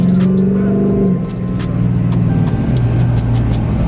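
A car, the Bloodycat, pulls away with a loud, steady engine drone that shifts pitch as it gains speed, close and continuous.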